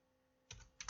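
Two short bursts of keystrokes on a computer keyboard, close and clear, arriving in quick clusters after a moment of near silence.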